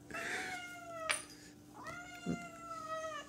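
A cat meows loudly and repeatedly up close, long wavering calls with a brief yowl in between, no voices over it.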